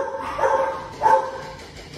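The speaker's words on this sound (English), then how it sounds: "she's not a very large hound" Two short, nearby barks from a medium-sized hound, spaced about half a second apart in a quiet indoor space.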